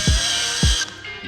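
A drill spinning a removal wheel whirs steadily up close while debadging a Range Rover Sport, with two dull low thumps as the wheel bites, then the motor sound thins out.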